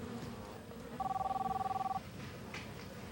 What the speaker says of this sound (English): Chris's girlfriend, Audra Baumgartner, happened to call him on a cell phone